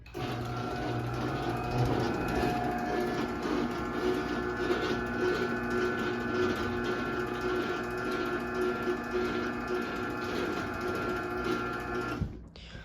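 A Sears Craftsman 139.53637SRT chain-drive garage door opener, made in October 1995 and fitted with its original sprocket cover, runs steadily for about twelve seconds with a loud, even mechanical hum and chain rattle, then stops abruptly.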